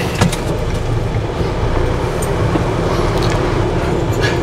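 A manual 4x4 creeps uphill in first gear low range at idle, its engine a steady, loud, deep rumble heard from inside the cab with faint rattles over it.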